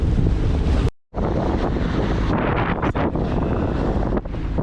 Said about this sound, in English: It's blowing, pretty choppy out here.